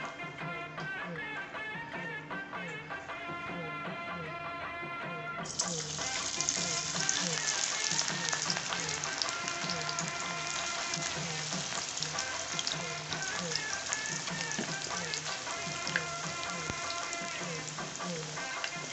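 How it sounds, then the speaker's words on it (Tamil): Rava and spinach pakoda batter goes into hot oil in a kadai, a steady bubbling sizzle that jumps louder about five seconds in as more batter hits the oil and then keeps frying evenly. "இப்போ வந்து நம்ம வந்து மாவு கொஞ்சம் பிசைஞ்சு அப்படியே போட்டுடலாம் பக்கோடாவை"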